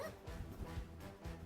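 A dog in a video game barks and yips several times in quick succession, fairly faint and muffled under game audio.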